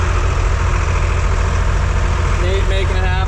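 A John Deere 4010 tractor fitted with perfectors pulls a plow at a plow day. Its loud, close diesel rumble throbs steadily, and faint voices rise briefly near the end.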